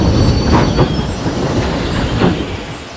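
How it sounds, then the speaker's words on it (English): A train shunts slowly nearby, wheels clanking and clicking over rail joints with a couple of metallic squeals, continuous and fairly loud. "Then, he noticed Edward shunting."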